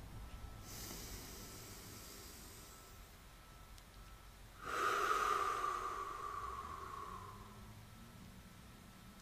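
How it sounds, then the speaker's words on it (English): A slow, deep breath drawn in and let out, a soft airy rush that swells and then fades, close and quiet with no talking. "Take a deep breath."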